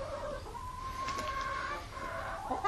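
Chickens clucking and squabbling among themselves in a natural-brooding coop setting, a steady run of overlapping nearby calls with no voices over them.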